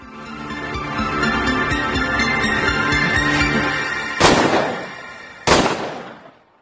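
Two sharp, loud gunshots ring out in a film scene, each a sudden burst with a short decaying tail, following a stretch of busy, rumbling background sound.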